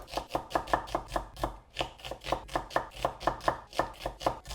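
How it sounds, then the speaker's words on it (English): Onions are roughly chopped with a knife on a cutting board: quick, evenly spaced thuds, about four per second, with a brief pause partway through, close and clear with no talking. "I'm going to take 2 onions and not thinly slice, but roughly chop these first and start cooking."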